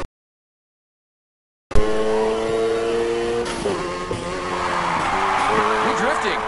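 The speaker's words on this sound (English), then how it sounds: "We're drifting!" A car drifting in Need for Speed Heat, with loud engine revving and sustained wavering tire squeal that starts abruptly after a short silence and runs on to the end.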